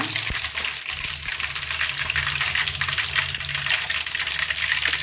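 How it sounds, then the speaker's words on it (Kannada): A large spoonful of mustard seeds spluttering in hot oil, a dense, steady crackle and hiss that runs close and loud throughout, with a low hum beneath. "ಚಟಪಟ ಹೆಂಗೆ ಸಿಡಿಯಾಗ್ತದೆ ನೋಡಿ ಸಾಸಿವೆ"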